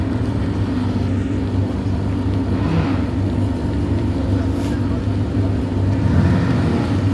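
A steady, loud sports car engine drones throughout on the Silverstone race track during a track day, revving slightly at times, with a faint voice barely audible in the background.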